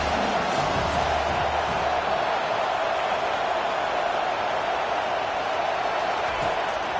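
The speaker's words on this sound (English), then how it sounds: "The roar of the crowd trying to fuel this defense to keep them pinned in their own end." Roar of the crowd at a Clemson football game, a steady dense wash of stadium noise, loud and unbroken throughout, with a commentator's voice faintly underneath at the start.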